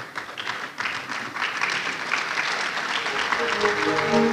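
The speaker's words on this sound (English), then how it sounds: "let's give another round of applause to our Pro-Vice Chancellor, Professor David Asamoah" Audience applause at the opening of an eLearning international conference, a steady wash of many hands clapping that holds and swells slightly toward the end, with a voice faintly audible underneath.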